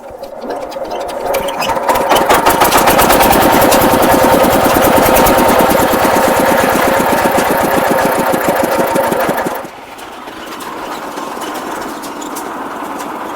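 An engine-driven fodder chopper on a dairy farm runs at a fast rattling rhythm, loud and close, with rapid mechanical clatter over an engine drone that steadies then drops to a lower, quieter idle near the end.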